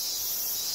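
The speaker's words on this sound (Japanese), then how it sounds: "うるさいくらいのセミの声と、" Loud summer cicadas shrill in a steady, unbroken hiss, a dense insect chorus filling the whole short moment with no other sound.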